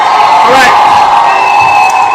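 A crowd cheers and whoops for a performer named Jess at a live event, a loud sustained roar of many voices lasting a couple of seconds.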